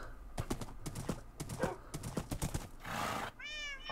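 A Minecraft horse trots with quick rhythmic hoof clops, then gives a breathy noise and a loud, wavering neigh near the end, all close and clear with no talk.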